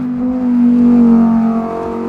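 A Lamborghini Huracan STO engine revs loudly with its exhaust baffles open, a close, sustained rising and falling howl lasting about two seconds.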